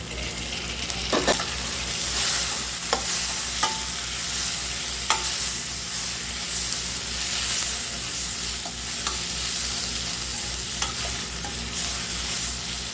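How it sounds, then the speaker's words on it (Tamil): Tomatoes sizzle and sauté in a hot pan, a steady frying hiss broken by occasional scraping stirs and clinks of a utensil. "தக்காளி வந்து நல்லா வதங்கணும்"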